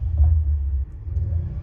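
An AMG car engine firing up nearby, a deep low rumble that drops off briefly and then settles into a steady idle, with no talking.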